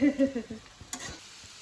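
Onions frying in a pan while being stirred for mutton kosha, a close sizzle with scraping spoon strokes that are loudest at the start and ease off within a second and a half.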